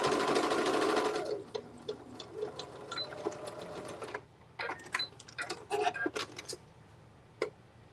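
A sewing machine stitches fabric in a loud, continuous burst for just over a second, then falls quiet as scattered clicks and handling noises follow.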